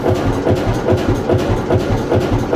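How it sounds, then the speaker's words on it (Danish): A 1963 Hundested engine runs aboard a fishing cutter at sea, a loud, close, steady low thumping with a regular beat over a heavy mechanical rumble, with no voices. "Men det er altså en Hundested motor fra 63,"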